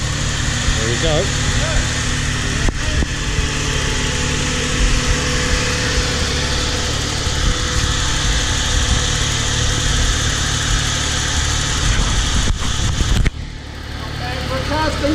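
A car engine idling after sitting unused for ten years, a steady mid-pitched running hum with light vibration throughout, close and loud, cutting out sharply near the end; people talk over it at times.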